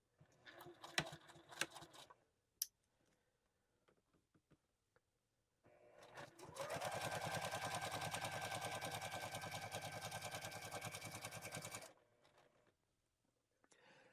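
A sewing machine stitches a bow tie seam in a steady, rapid mechanical run of about six seconds, preceded by a few faint clicks and handling noises in a quiet room.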